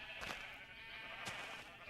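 Two sheep bleats in Minecraft, a pair of short wavering cries about a second apart over a steady game background hum.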